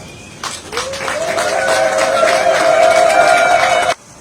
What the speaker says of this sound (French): je vous demande d'applaudir vivement